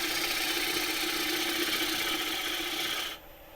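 A turning tool cuts into a spinning wooden bowl on a wood lathe, giving a steady close rasping hiss with an underlying motor whine that cuts off abruptly near the end, leaving only a quieter hum.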